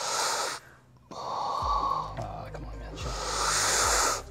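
A deep inhale and long exhale from a bodybuilder lying for an abdominal and diaphragm massage, breathy hissing bursts at the start and end with lower rumbling contact noise between them, fairly close.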